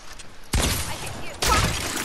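Two loud bursts of gunfire in Fortnite, each starting abruptly and ringing on with a noisy, crackling tail, quieter background between them.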